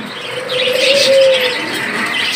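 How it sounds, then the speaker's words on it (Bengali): A pair of caged Australian doves gives a clear, close coo, one drawn-out smooth call rising and falling over a quiet background. "এখানে রয়েছে দেখতে পাচ্ছেন এক জোড়া অস্ট্রেলিয়া ঘুঘু পাখি।"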